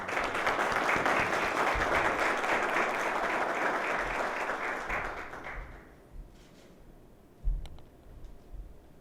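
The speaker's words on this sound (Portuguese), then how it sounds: "peço uma salva de palmas" An audience at an education conference panel claps in dense, sustained applause that fades out after about six seconds, leaving a quiet room with a few soft knocks.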